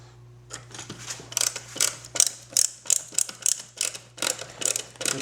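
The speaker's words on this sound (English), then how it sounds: "cause those nice sharp threads on the new screw to actually cut threads into those plastic pillars that we drilled out" Screws with sharp new threads are driven into drilled-out plastic pillars on a 1965–66 Mustang gauge dash bezel, giving a close run of quick ratcheting clicks and creaks over a faint steady hum.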